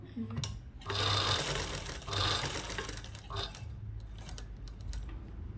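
A sewing machine stitches cloth in several loud, close bursts with short pauses between them, alongside light clinking handling sounds and a few faint voice traces.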